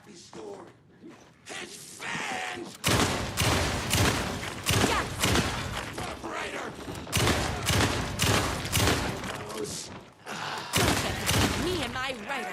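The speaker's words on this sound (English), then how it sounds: "I like this automatic mode for the shotgun" Rapid blasts from an automatic-mode shotgun in the survival horror game Alan Wake 2 Night Springs DLC boom out in dense bursts, with game voices groaning and gasping between the volleys.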